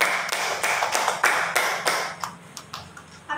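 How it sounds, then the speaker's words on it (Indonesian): Applause from a school talk-show audience: a run of quick, overlapping claps that builds and then thins into scattered hand taps, close and fairly loud, with no voices over it. "Boleh aplaus untuk semuanya."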